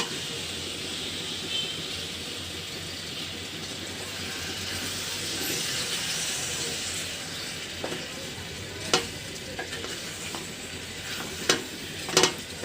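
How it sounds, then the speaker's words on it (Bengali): Beef stirred into fried spice paste in a pot for a homemade Bengali beef curry: a steady low sizzle runs throughout, broken near the end by a few sharp scraping clinks from the stirring utensil. "মশলার সাথে মাংসটা খুব ভালোভাবে মাখিয়ে নেব।"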